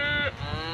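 A cow lets out one close, loud low moo in a cattle pen in Curug Kulon, short and sustained with no talk over it.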